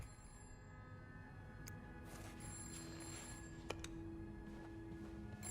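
A telephone rings faintly in a quiet room, with thin tonal chimes and a few sharp clicks over a low background rumble, no voices present.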